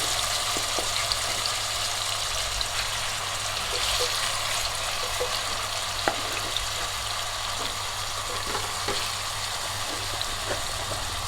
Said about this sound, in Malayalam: ഒന്ന് വറുത്തെടുക്കാം.